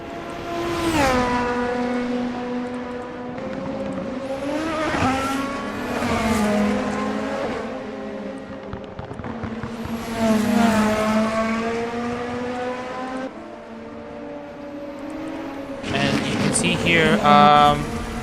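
A race car laps Suzuka in a racing video game, its engine note climbing and falling through repeated gear shifts, loud and continuous, with tire squeal near the end and talk running alongside.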